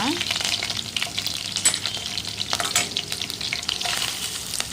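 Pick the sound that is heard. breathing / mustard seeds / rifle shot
mustard seeds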